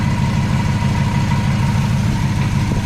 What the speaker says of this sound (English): It seems like it's got a little shake to it.